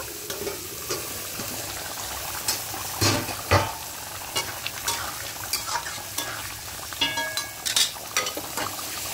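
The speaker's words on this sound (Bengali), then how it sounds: "এবার ঘিয়ের মধ্যে এটাকে হালকা করে একটু ফ্রাই করে নেব।" Potatoes fry lightly in ghee for a vegetarian aloo dum, giving a steady soft sizzle broken by frequent sharp scrapes and clacks as they are stirred in the pan.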